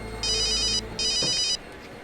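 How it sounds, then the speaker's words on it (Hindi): A mobile phone rings with an electronic ringtone, two bursts of bright trilling tones separated by a short pause, moderately loud and nearby, with no speech. "अरे पार्टी ऑफिस से फोन है"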